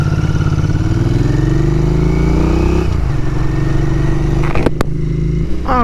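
A 2021 Royal Enfield Interceptor 650 is ridden. Its engine note climbs steadily under acceleration, drops at a gear change, then settles into a steady cruise with a couple of brief clicks near the end.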